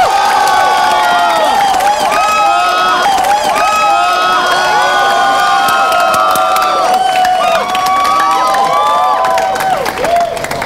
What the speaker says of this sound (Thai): ถ้าทุกคนฟังแล้วเข้าใจก็ปรบมือกันสิครับ